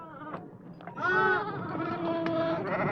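Sheep kept by a Navajo family bleat in a wavering, drawn-out call, one animal close and others overlapping over a soft outdoor background.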